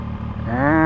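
A Zontes 703F adventure motorcycle engine fires up, its close, steady mechanical tone rising in pitch over less than a second.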